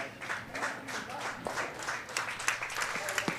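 Scattered applause at a U18 girls' curling championship as a team comes off the ice, with individual claps rising over the rink's background murmur.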